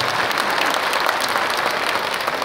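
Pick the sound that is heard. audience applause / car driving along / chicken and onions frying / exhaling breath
audience applause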